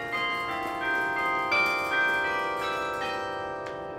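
Several large bells of the Metz Grand Carillon at Indiana University ring in sequence, clappers pulled against the bell walls, overlapping notes blending into a rich, sustained chime that slowly fades, clear and fairly close.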